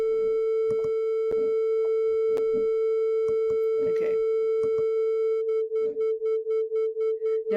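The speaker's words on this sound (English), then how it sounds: "Now what you hear is a fluctuating sound that vibrates about 4 times per second" Two pure sine tones at 440 Hz and 444 Hz played together, producing a steady tone that pulses in loudness about four times per second; clicks and speech-like noise come earlier, and the regular beating emerges clearly near the end.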